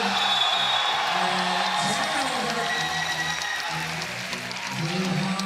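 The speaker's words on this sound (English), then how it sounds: "They are loud. Sounds like a capacity crowd with Hong Kong knocking on the door." A loud crowd at a FIBA 3x3 basketball Olympic qualifying game, day one, keeps up a steady roar of cheering and shouts while a commentator talks over it throughout.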